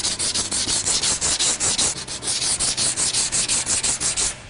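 A sanding block is worked back and forth over carborundum body filler after 80-grit board filing, producing a close, loud run of about twenty rhythmic rasping strokes that ends abruptly.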